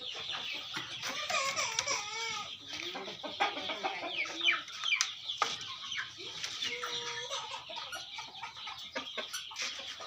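Hens clucking at a Thai fighting-rooster farm, a steady run of close, overlapping clucks and short calls with other birds chattering in the background and no talk.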